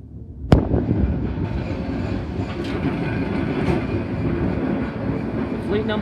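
Vintage tram number 1497 arriving at the Sydney Tramway Museum: a sharp clack, then a steady loud, close rumble of wheels on rails with faint squeals and rattles.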